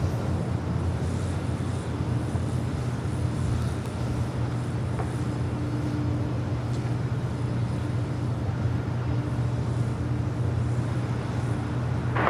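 Airbus A350-1000 airliner arriving at LAX on runway 24 right, a steady low jet roar holding evenly throughout, distant and continuous, with no talk.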